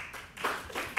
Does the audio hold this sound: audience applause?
yes